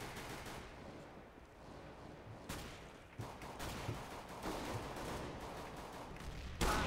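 Five-SeveN pistol fire in Counter-Strike: Global Offensive, a dense run of sharp gunshots and rapid bursts under steady game noise, with a louder cluster near the end.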